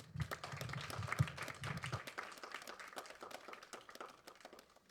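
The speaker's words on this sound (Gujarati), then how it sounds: "હવે તમને બધી તાળીઓ મળી ગઈ છે" Scattered audience clapping at a Gujarati talk on beauty, a quiet, distant patter of individual claps continuing throughout, with a low murmur under the first two seconds.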